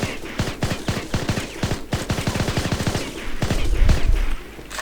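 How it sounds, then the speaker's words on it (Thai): Rapid gunfire from an M4A1 rifle in the shooter game InZone Online. Dense, loud automatic bursts rattle off in fast succession, then give way to a heavier low rumble near the end. "ยิงรัวกันเลยนี่ยิงสูตรหนึ่งอาแล้วลองยิงทีละสามนัด"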